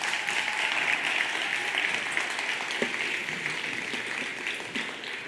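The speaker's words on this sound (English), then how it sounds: "Can we give them one more round of applause?" An audience at a disability justice event gives a sustained round of applause, many hands clapping in a dense, even wash that fades slightly toward the end, with no speech over it.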